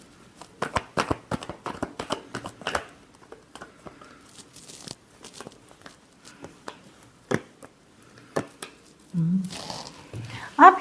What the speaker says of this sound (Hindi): एक और शफल करेंगे